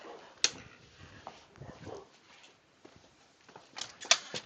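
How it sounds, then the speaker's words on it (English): Several dogs barking in a backyard, with sharp, loud yelps in short bursts near the start and again at the end, over quieter background movement and faint whimpering. "These guys are barking like crazy."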